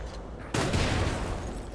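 A sudden loud blast erupts in the video game Lies of P, a sharp boom after half a second of quiet rumble followed by a dense crackling, sustained roar.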